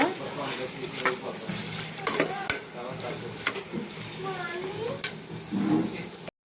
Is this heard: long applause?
no